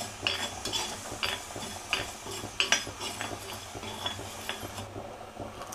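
Coriander seeds, cumin and black pepper dry-roast in a pan, stirred with a spoon that scrapes and clinks against the metal at a loose, repeated rhythm, close and quiet.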